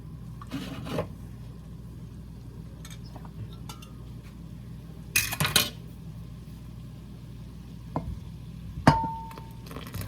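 Strawberries boiling in a pot on the stove for a strawberry pie filling are stirred with a utensil, giving a few scraping and clinking stir strokes over a low steady background hum, close and fairly quiet, with no talking.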